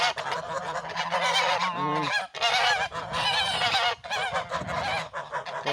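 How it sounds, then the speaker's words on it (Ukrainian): A flock of geese honks loudly and nearly nonstop, overlapping calls close by, with brief dips between bursts. "Покажу гусей вам, які вам виросли."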